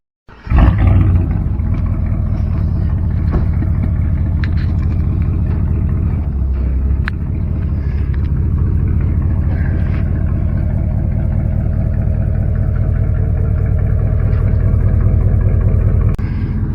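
Chevy C10 long bed truck being moved into a shop, a steady loud engine rumble and roar running throughout, close and continuous.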